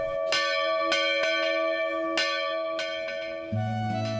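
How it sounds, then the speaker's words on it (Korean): A church bell at an old village church in Hamra, Iksan, rings out in a series of clear, resonant strikes about every half second. Each strike leaves a long humming tone, and a lower droning note enters near the end. "100년 동안 그침없이 울려 퍼진 종소리는"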